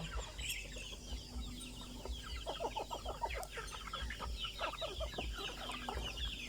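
Several free-range native chickens, kept near a cattle pen in the rainy season, cluck softly and intermittently nearby, with a low steady hum underneath.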